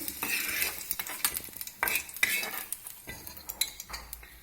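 Fried green chillies stirred in a pan and scraped into a bowl, with utensils clinking and scraping against the pan in short bursts over a faint sizzle.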